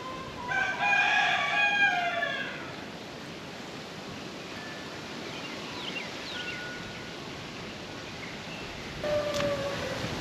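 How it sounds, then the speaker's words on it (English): A rooster crows loudly near the start and again at the end inside a chicken pen, with other chickens present, over a constant hissing outdoor background and no talking. "Let's go out here and check on the chickens."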